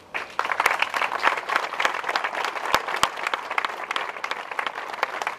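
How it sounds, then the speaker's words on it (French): A crowd in La Valette-du-Var applauds the liberators at a commemoration, steady, dense clapping that starts abruptly and continues evenly, with a few sharp individual claps standing out. "Nous pouvons les applaudir avec reconnaissance."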